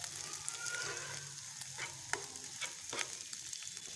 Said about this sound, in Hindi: तो अभी इसको हम और फ्राई करेंगे इसका कलर चेंज होने तक